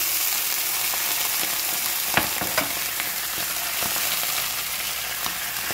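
Sliced onions fry slowly in oil in a pan for a hilsa fish dish, giving a steady close sizzle broken by a few sharp clicks and taps of stirring, with no voices.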